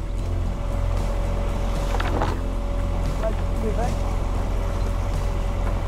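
A large motorboat speeds past a family cruising yacht, a continuous loud engine roar mixed with wind and rushing water, with people talking over it.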